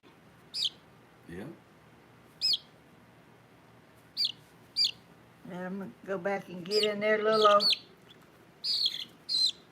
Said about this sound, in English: Two little little chickies. Look at them chirping.